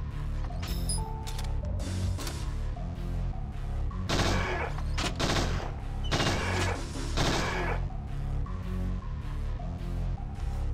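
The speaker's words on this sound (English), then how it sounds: "No, I can't shoot them enough." Gunfire in Parasite Eve II, bursts of loud sharp shots clustered around the middle, over a constant mechanical background with game sound effects.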